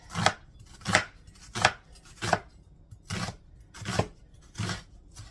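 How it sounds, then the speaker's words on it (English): Knife dicing onions for a one-pot Big Mac skillet, a steady series of about seven sharp, close chops on a cutting board at an even rhythm, with no talking. "first thing we're going to do is dice up some onions"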